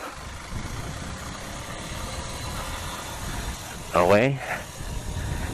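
A CPI DTR 150 motorcycle engine runs with a steady low rumble during a city ride, close and continuous, while someone briefly speaks over it near the end.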